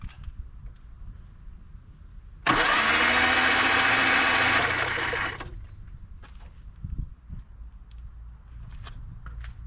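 An Austin Allegro engine cranks for its first start in decades: a loud, rough burst of about three seconds that cuts off abruptly, followed by quieter knocks and handling noises. No one speaks.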